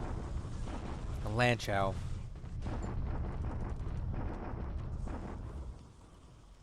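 Artillery bombardment in a Pacific war strategy game rolls as low, rumbling explosions, sustained and thunder-like before fading, with a brief spoken voice near the start.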